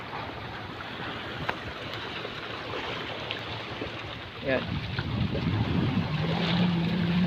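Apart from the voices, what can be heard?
rough sea waves at Manila Bay breakwater during typhoon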